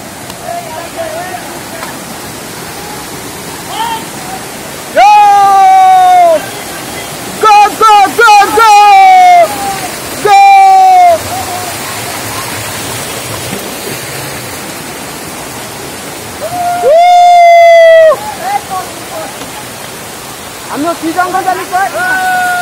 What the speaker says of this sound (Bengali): এই যে ঝর্ণা, আস্তে আস্তে আমরা ঝর্ণার দিকে যাইতেছি।